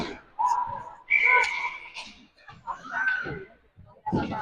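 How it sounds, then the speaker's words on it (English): A referee's whistle sounds at a junior varsity high school ice hockey game, Hilliard against Jerome, as a shrill tone over continuous play-by-play commentary. "Whistle comes."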